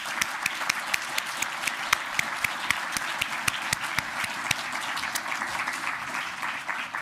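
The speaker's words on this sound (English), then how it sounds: "And can we just have one final round of applause for Ximing," Applause for three honorees at a university investiture ceremony: a room full of people clapping steadily, with some individual sharp claps standing out close by against the continuous wash of hands.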